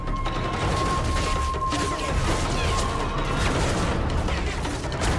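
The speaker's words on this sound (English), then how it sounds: "Use the mortar and hose those bastards down!" Mortar and gunfire from Call of Duty Modern Warfare 3 crackle in a dense, continuous barrage, the battle noise loud and unbroken with no clear pauses between shots.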